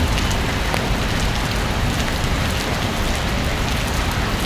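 Heavy rain in the town of Prasat, Surin, Thailand pours steadily onto a surface, a thick, continuous patter close by with no speech over it.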